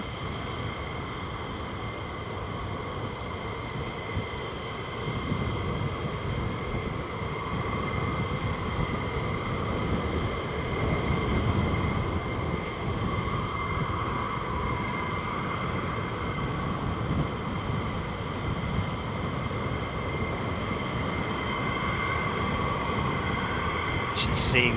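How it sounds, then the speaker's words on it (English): F-35 fighter jets passing over RAF Lakenheath, a sustained, loud broadband jet roar that swells slightly midway and holds steady throughout, with people talking faintly underneath. "we may get a group of F-35 jets joining this parade shortly from the right."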